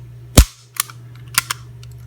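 A SIG P225-A1 pistol's hammer snaps down sharply once during a trigger function check, followed by a few lighter mechanical clicks from the trigger and hammer, close and distinct with no talk.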